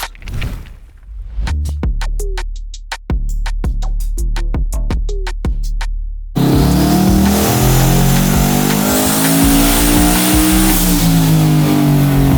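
A tuned 2024 Ford F-150 revs repeatedly on a hub dyno in sharp bursts, then settles into a long sustained roaring pull as the engine winds up under load, loud and close.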